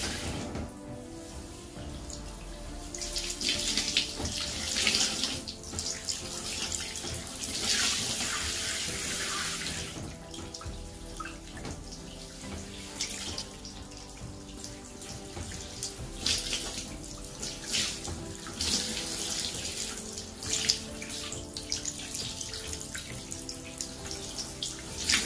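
Shower water streams steadily while hair is rinsed after hair colouring, a continuous hiss with shifting splashes as the flow hits hair and body, nearby and without talk.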